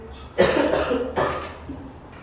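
Two sharp coughs, one at a time with a short pause between them, close and fairly loud, then a faint trailing sound.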